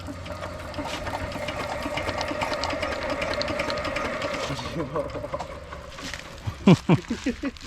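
A boat engine that had stood idle for two years runs with a steady mechanical chatter, close and fairly loud, and ends with a few sputtering pulses. Voices talk over it throughout.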